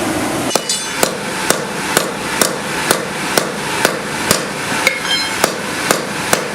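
Metal hammer blows strike a heated rivet through a round die while riveting blacksmith tongs, about a dozen sharp ringing hits at an even, steady rhythm, loud and close with no talk.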